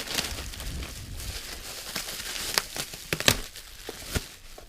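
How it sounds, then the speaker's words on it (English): Plastic bag packaging being cut and handled during an unboxing, with crinkling rustles and a few sharp snips or clicks, fairly close and moderate in level, with no talking. "I want to cut the bag."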